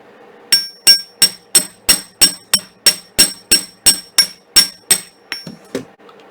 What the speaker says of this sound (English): So I'll hammer this one.